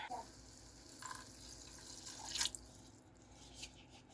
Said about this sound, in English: I should add some more water.